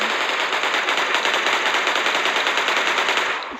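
Rapid automatic gunfire from a weapon shooting invisible bullets in the Melon Sandbox video game, a dense, loud, unbroken burst of shots lasting a few seconds before trailing off slightly.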